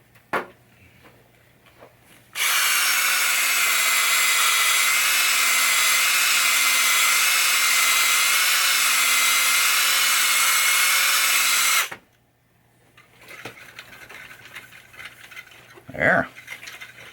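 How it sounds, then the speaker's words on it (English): Power polisher buffing a 1967 Williams Blast Off pinball machine, a loud steady whine that runs for about nine seconds and then cuts off, followed by quiet handling noises and a brief bump. "I did not get that good with the polisher"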